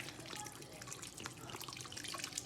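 Clean fresh water poured over sea moss to soak it, a soft, continuous splashing trickle with small drips, fairly faint and close.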